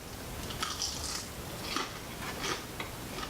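A few crisp crunchy bites into a fried chicken nugget, close up, with faint chewing between them and no talking.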